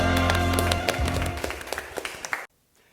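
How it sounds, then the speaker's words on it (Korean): A church congregation claps in worship at a children's Sunday service, a dense, loud round of applause with scattered sharp claps that thins out and cuts off abruptly near the end, backed by a low sustained musical tone. "하나님께 영광의 박수 올려드리겠습니다"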